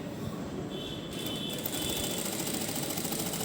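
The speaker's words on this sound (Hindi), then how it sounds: "नेक पर सिलाई लगाकर इसे कंप्लीट कर लेंगे" A sewing machine runs steadily, stitching a boat neck design on fabric, with a continuous dense mechanical whir that picks up slightly partway through and carries on alone without talk.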